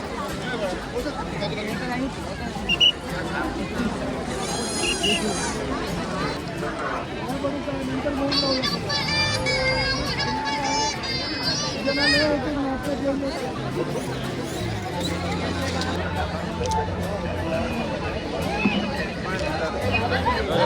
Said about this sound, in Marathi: आधी केवढी गर्दी आहे